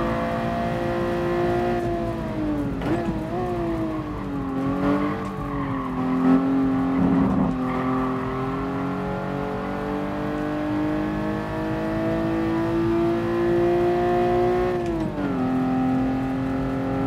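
Toyota 2000GT driven in Gran Turismo Sport: a steady, buzzy engine drone rising and falling through gear changes, with a few brief tire squeals at corners, continuous and fairly loud with no talk.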